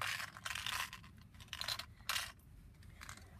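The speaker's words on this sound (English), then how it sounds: "I think I have a breath mint." An orange breath mint container is handled inside a 2005 Ford Escape Limited, with faint rattling, crinkling bursts at irregular intervals, quiet and close.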